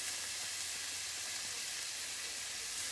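Red chili dropped into hot frying oil for a Kerala-style fish curry sizzles with a steady, dense hiss, close and even throughout with no talking.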